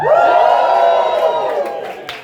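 A live audience at an improv theatre show in Glasgow lets out a loud, bright cheer of many voices with whoops, sustained for about a second and a half before tapering off quickly.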